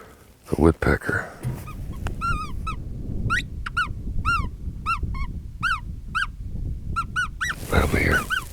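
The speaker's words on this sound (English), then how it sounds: "Okay, I'm gonna try the" An electronic predator caller outdoors in West Texas plays a woodpecker distress call, a series of sharp, harsh, evenly spaced shrieks following a few thumps and a brief voice.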